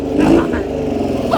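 An Infiniti G37's engine runs close and loud, a steady low rumble with a brief rise at the start, and a voice briefly speaks over it.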